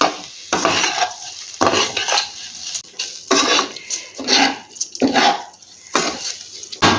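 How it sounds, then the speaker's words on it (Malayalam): Biryani rice mixed with salt is stirred in a pot, a spoon scraping and clattering in rhythmic sweeps about once a second, close and clear with no talk. "നന്നായിട്ട് ഇതേപോലെ ഇളക്കി യോജിപ്പിക്കാം ഒരു മിനിറ്റ് ഇങ്ങനെ ഒന്ന് ഇളക്കാം"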